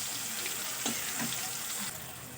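Boiled khesari greens with Kashmiri chilli powder are stirred and fried in a pan, giving a soft, continuous sizzle with light scraping and stirring sounds up close.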